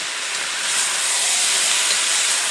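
A loud, steady sizzle and hiss of vegetables stir-frying in a hot pan for jjajangmyeon black bean sauce continues without pause, close and bright.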